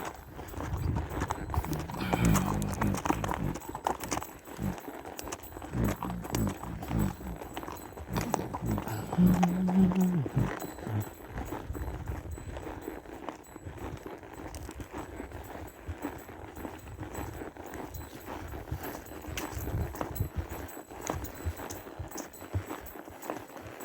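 Horse hooves clip-clop along a bridle trail at Morrow Mountain State Park during a horseback ride, a close, steady walking rhythm that continues throughout over light outdoor background noise.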